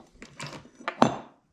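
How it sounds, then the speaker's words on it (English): A few faint, brief metallic rattles from a 1968 Volkswagen Beetle pedal cluster being shaken by hand, light clinks scattered over a second with one slightly louder knock near the end, then quiet. "Maybe if I shake it really hard, you might be able to hear the slightest rattle."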